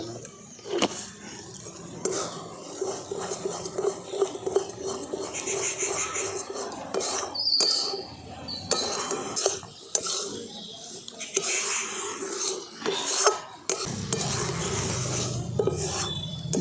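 Potato chomchom sweet mixture with ghee stirred and scraped in a pan, a continuous rasping, rubbing texture with occasional utensil clinks against the metal, steady at close range while a person talks over it.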